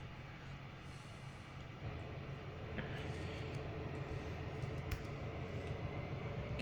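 A train pulls freight cars in Trainz 2022, a steady low rumble with rolling rail noise that builds slightly and holds, fairly quiet and without speech.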